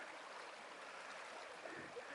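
Clear creek water flowing beside a hiking trail on the Ozark Trail, a constant close rushing burble with no break, filling the whole moment.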